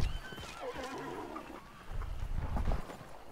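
A horse in the video game Hunt: Showdown neighs and whinnies at moderate distance, with hoof clip-clops and faint game ambience around it.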